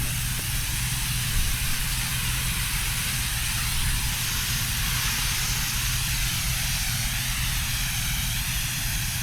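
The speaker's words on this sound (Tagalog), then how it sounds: "Pegasus po in-spray natin." A sprayer applies Pegasus pesticide across a bitter gourd field, a steady, loud hissing spray with a low motor drone beneath, continuous and unbroken throughout.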